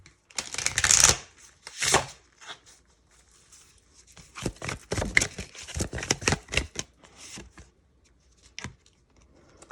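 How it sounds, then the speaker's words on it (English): Tarot cards being shuffled and handled, giving crisp riffling bursts near the start and around two seconds, then a run of lighter flicks and slides as cards are pulled, close and fairly quiet with no talking. "So I'm just going to pull one last card to get just an overall kind of prediction"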